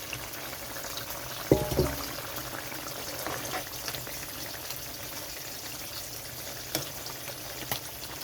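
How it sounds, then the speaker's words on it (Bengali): Fish pieces frying in a pan while a potato and taro-stem curry cooks, giving a steady, moderate sizzle with a couple of brief clatters early on. "এখানে আমি মাছটা দিয়ে দিচ্ছি ভাজা"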